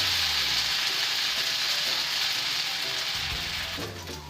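Cheese potato dosa frying in oil on a pan, giving a steady, close hissing sizzle that holds even throughout and eases slightly toward the end.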